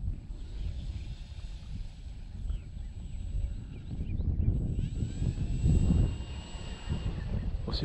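Electric motor of an E-flite 1.2 m P-51 radio-controlled model airplane whirs at low level while taxiing on dirt, mixed with gusty wind rumble that swells and fades without talk.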